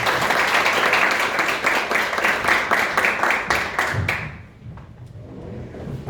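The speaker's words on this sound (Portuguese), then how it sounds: "Uma salva de palmas." Steady applause from a seminar audience at a legal conference, close and loud, with individual claps distinct, fading abruptly after about four seconds into quiet room noise.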